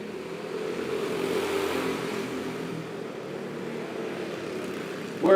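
Racing karts on an indoor raceway drone steadily under a constant engine roar that swells slightly as the pack accelerates. The sound is a continuous blended mechanical hum at moderate distance, with no talking.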